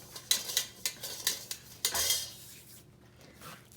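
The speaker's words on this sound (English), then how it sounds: "I get a bowl, I pour a little bit of oil in, and smear it all around the inside" Oil being smeared around the inside of a bowl while making orange multigrain bread dough, heard as a series of close clinks and scrapes against the bowl, then a softer rubbing swirl.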